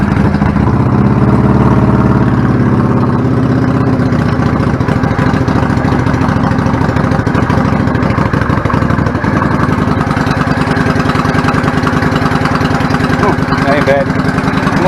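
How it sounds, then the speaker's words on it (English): A 1999 Yamaha V-Star 650 Classic motorcycle engine with a clogged pilot jet idles steadily with the choke off while warming up, a loud, close, even putter that holds throughout. "Still warming up, still a regular idle with the choke off."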